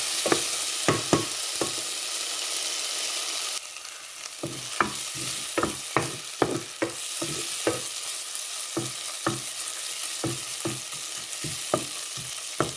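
Salted tomatoes sautéing in a pan for an egg curry, a constant close sizzle punctuated by many sharp spatula clacks and scrapes in an irregular stirring rhythm.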